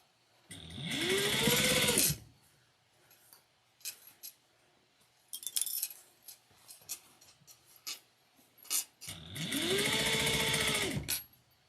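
A sewing machine stitches the seam of a triangular shoulder bag in two loud bursts, one at the start and one at the end, each ramping up and winding down, with quiet handling and fabric rustles in between.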